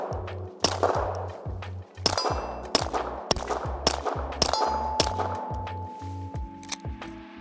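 Suppressed gunshots from an FN Catch 22Ti or FN Rush 9 Ti suppressor fired at distant targets outdoors in the cold, a series of about ten sharp muffled reports at uneven intervals with metallic pings and ringing between shots.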